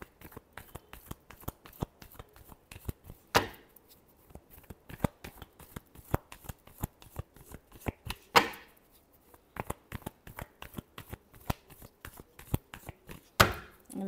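Tarot cards being shuffled by hand, close and crisp, a rapid stream of flicking riffles broken by a few louder bridge-like bursts, with no voices.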